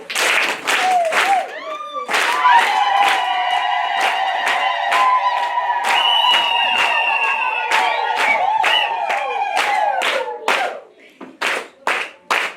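A church congregation at an Easter Sunday service in Makindu, Kitale Diocese, claps and ululates loudly to welcome the bishop, with sustained high trilling ululations riding over steady applause that thins into scattered claps at the end.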